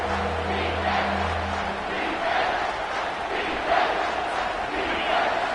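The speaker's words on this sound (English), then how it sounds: "This crowd knows they have to bring it in big moments" A football stadium crowd at an Ohio State versus Stanford game roars in a steady, loud wash of voices, with a low hum fading out after the first two seconds.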